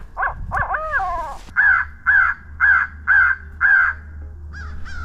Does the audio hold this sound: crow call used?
yes